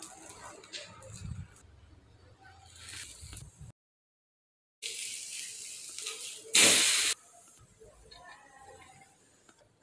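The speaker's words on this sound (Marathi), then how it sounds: "आता दुसरं पण धपाट टाकून ते हे व्यवस्थित भाजून घेऊ।" Fasting thalipeeth (dhapate) flatbread roasting on a hot pan gives a hissing sizzle in uneven bursts. The sizzle cuts out briefly, then returns louder with a sharp spike. A voice is faintly present at times.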